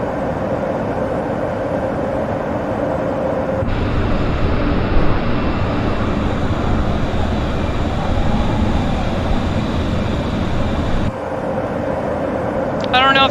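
Embraer 175 airliner engines in Microsoft Flight Simulator give a steady broadband roar that swells partway through and then settles, continuous and fairly loud throughout.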